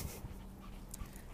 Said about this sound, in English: Here I am walking my dog.